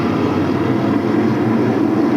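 A pack of SK modified race cars at Stafford Speedway roars off at the green flag, a dense, loud, sustained engine drone with broad rumble and no break, and no voices audible over it.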